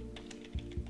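Quick clicks on a computer keyboard, a handful of light taps with two heavier keystrokes near the end, close and fairly quiet against a low steady hum.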